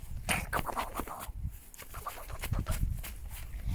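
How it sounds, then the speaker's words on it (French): Hens clucking and murmuring in short, irregular bursts nearby, with some rustling and low background noise throughout. "c'est les toutes premières poules qu'on a eues"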